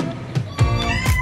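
A child imitates a cat, giving several short meows in a row, loud and close, with no other talk.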